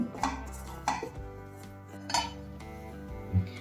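Roasted flour is scooped from a pan into a bowl, with a few sharp metallic clinks and scrapes of a spoon against the cookware, spaced apart at close range, no talking.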